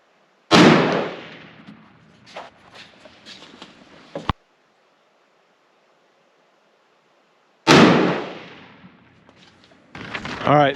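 Two loud rifle shots ring out at deer camp while rifles are sighted in, each a sharp close blast trailing into a long echoing decay, separated by several seconds of silence, with faint handling noises after each.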